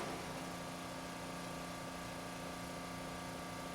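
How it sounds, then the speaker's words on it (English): A balancing training machine in a mechanical engineering lab hums steadily at constant speed, a continuous motor drone with a vibrating, tonal whine holding evenly throughout with no voices. "Okay, I will start the machine."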